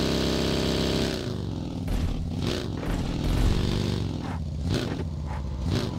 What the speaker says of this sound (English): Oi, ada motor.